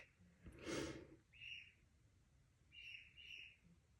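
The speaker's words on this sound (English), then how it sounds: "Sorry if you could hear my birds. They're like nuts this morning." Small pet birds indoors give a few short, bright chirps and tweets, faint and somewhat distant, with a brief breathy noise near the start.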